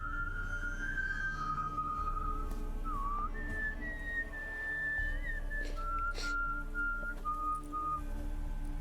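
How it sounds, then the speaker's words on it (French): A person whistles a slow, sinister melody in clear, wavering sustained notes with short pauses between phrases, over a low steady hum. "Gunther sifflotant un air sinistre."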